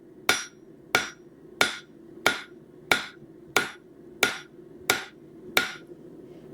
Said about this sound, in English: Kind of flattening it out a bit on the flat of the anvil.